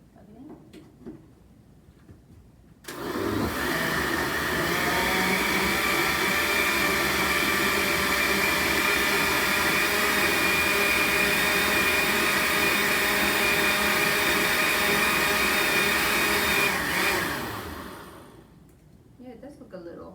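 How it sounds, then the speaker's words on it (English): A kitchen blender runs on gazpacho, starting abruptly with a loud, steady whirring roar that holds for about fifteen seconds and then winds down, with brief talk faintly before and after. "So you can run it in your blender, it sounds like."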